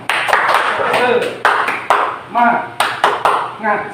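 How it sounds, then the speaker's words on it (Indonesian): Workshop participants in a hall stand and do a rhythmic spirit clap, delivering sharp, loud clap bursts in a steady pattern, with a speaker's voice and a chanting response heard between the claps. "Kita coba tepuk semangat."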